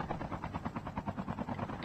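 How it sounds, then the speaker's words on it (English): A helicopter in Call of Duty Mobile whirs with quick rhythmic rotor thumps, fairly faint and steady, alone without speech. "How did we end up with two helicopters?"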